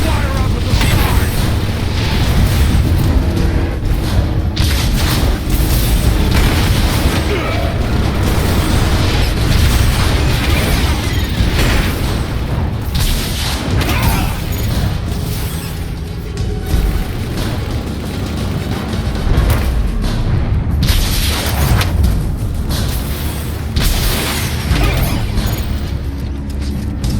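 Rocket blasts and explosions in the video game Transformers: War for Cybertron (2010), a dense, loud barrage of booms and bursts running continuously under mechanical clatter and game voices.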